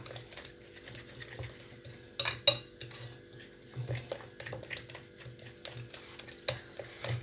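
Batter for hake fried in batter is whisked in a bowl to work out lumps, giving rapid scraping and clinking of a utensil against the bowl in short rhythmic bursts, close and fairly quiet, with no talking.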